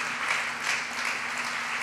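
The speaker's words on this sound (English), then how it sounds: "Give them a round of applause, will you?" Audience applause at an event where the Vice President addresses employees, a steady, even wash of clapping from a large crowd.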